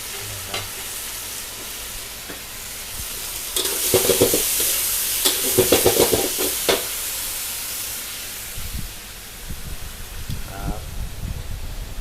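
Fish and other food sizzle and hiss in a hot wok with bursts of scraping and stirring, while voices talk quietly in the background.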